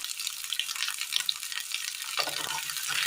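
Shallots sautéing in a little added oil in a pan for a curry, giving a steady close hiss and crackle of frying, with a brief stirring clatter near the end.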